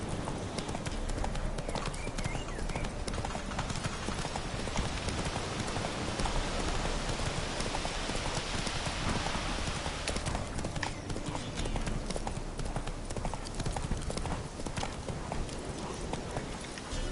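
Horse hooves gallop in Witcher 3, a fast, continuous clip-clop rhythm heard close up over a constant rain-like hiss.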